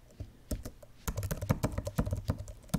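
Fingers type on a computer keyboard to fill in a web form, sparse keystrokes at first, then a quick, close, steady run of clicks with no voices.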